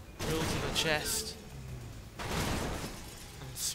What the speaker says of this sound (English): smash through some glass